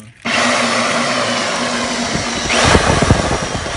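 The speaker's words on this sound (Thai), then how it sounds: "ตอนนี้เราก็ เจาะ เสร็จเป็นที่เรียบร้อยนะครับ" A core drilling machine bores into the ground, starting abruptly after a brief quiet and running as a loud, steady high-pitched whine with a constant hum, then grinding and rattling toward the end.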